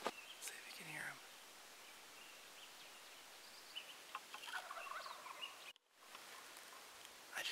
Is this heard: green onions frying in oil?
no